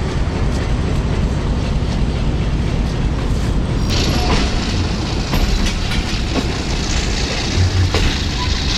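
Kohat Express passenger train pulling out of a junction on the ML2 line in Pakistan, steady rumble of wheels and rhythmic clickety-clack of rail joints heard from inside a coach, continuous and fairly loud.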